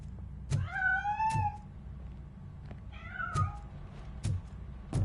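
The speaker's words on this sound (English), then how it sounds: "That cat must be hiding inside." A cat in the Robocop: Rogue City video game meows twice with rising, drawn-out cries, heard alone over a low hum and a few soft thumps.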